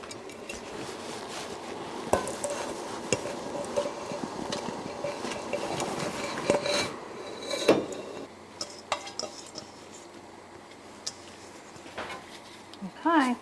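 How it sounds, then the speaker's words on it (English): Jalapeno slices tip into a simmering pot of sugar-free cowboy candy syrup, with clattering and scraping of a utensil against the pot while the cooking stays at a gentle simmer under light kitchen noise. "I'm going to add the jalapenos."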